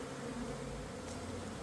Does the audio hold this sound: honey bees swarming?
yes